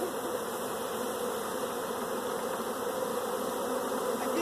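A giant swarm of bees buzzes loud and dense, a continuous droning hum filling the air without pause or voices.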